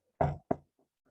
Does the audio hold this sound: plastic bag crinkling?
no